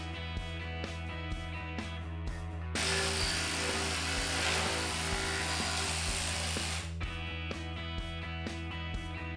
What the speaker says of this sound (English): I'm going to cut to size this PVC lattice work just with a simple jigsaw